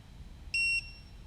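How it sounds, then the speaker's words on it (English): A drone's lost-model buzzer gives a single short electronic beep, steady and high-pitched, for about a quarter second against a quiet room hum. "that's my buzzer finder beeping"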